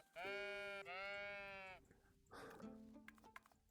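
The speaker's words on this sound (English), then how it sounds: "is you can pet the sheep" Sheep bleating in the Tiny Glade video game: two long, clear, wavering bleats close together, followed by softer clicks and a brief shorter call, with no other sound around them.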